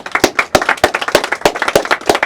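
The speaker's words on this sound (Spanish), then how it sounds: "Vamos a dar un aplauso al Señor." Rhythmic hand clapping during a church service, a small group clapping in quick uneven bursts, close and distinct, with no talk over it.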